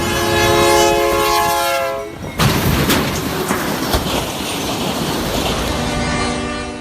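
A train horn blares loudly at a road crossing for about two seconds, then the heavy rumble and rattle of the passing train takes over and holds steady until the end.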